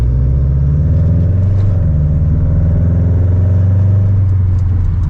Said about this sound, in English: I love how loud this thing idles now.